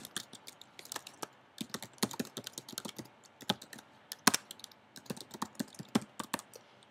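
Rapid, uneven bursts of keystrokes on a computer keyboard as an email address and password are typed in, close and clear against a quiet room.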